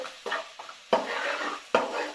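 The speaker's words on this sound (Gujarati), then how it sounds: "હવે આ બધાને સરસ રીતે મિક્સ કરી લેવાના છે" Kanda poha being stirred with sugar and chillies in a pan over a low flame, a spoon scraping and clinking against the metal in three distinct strokes, close and clear with no talk.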